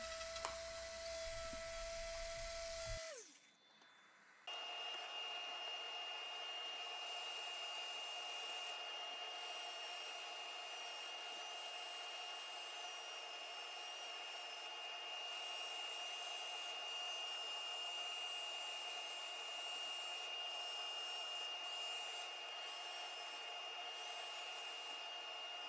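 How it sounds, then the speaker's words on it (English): Sandpaper rubs against the back of a large square wooden bowl spinning on a lathe, making a continuous whirring hiss over the motor's steady whine, after a brief drop as the machine changes speed near the start. "Now I'm just going to sand the entire back surface or bottom surface of this bowl."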